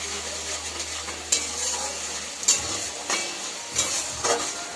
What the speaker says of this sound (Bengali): ভালো করে মিশ্রণটাকে কষে নিতে হবে। সঙ্গে স্বাদ মতো লবণ দেবো, স্বাদ মতো চিনি দিয়ে দেবো, দিয়ে নাড়তে থাকবো।